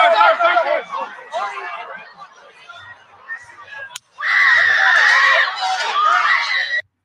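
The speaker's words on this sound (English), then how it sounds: "The scream was crazy." People scream and shriek in a recorded scene, loud overlapping cries first, a quieter lull with murmuring, then a sudden sustained burst of piercing screams.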